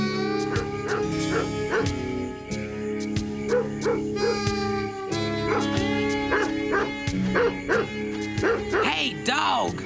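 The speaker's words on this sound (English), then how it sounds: "Hey, dog! Quiet!" A cartoon dog barks and yips in a quick series of close, loud bow-wows with a few whimpering notes, mixed with a music score and a voice.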